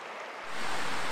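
Water of the East Branch Deerfield River in Vermont, a wild brook trout stream, rushes in a broad steady hiss that swells up loud and close after a brief quieter start.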